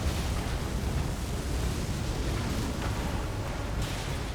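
Fire attack explosions in Elden Ring roar as a continuous, loud, rumbling blast with a thick low-end wash and no pauses, the blaze and booms blending into one sustained roar.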